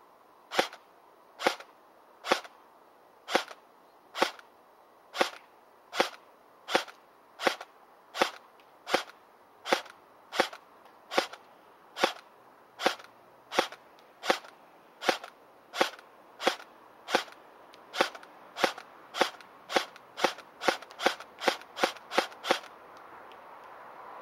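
A custom airsoft M4 CQB electric rifle fires single shots on semi-auto, each a sharp, close snap with a short mechanical clack. About thirty shots come at a steady pace, growing quicker at the end, with no talk.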